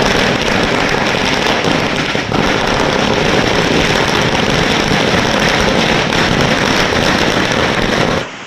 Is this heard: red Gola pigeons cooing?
no